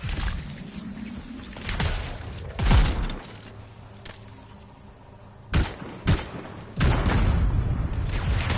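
A bomb blows apart a barricade in a video game: a heavy boom with debris crashing down, then quieter rumble, followed by several sharp bangs and a renewed loud blast burst near the end.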